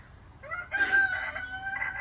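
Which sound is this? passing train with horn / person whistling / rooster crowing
rooster crowing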